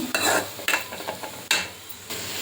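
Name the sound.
onions frying in hot oil, being stirred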